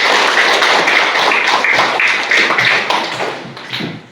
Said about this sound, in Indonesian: Jadi tepuk tangan untuk kita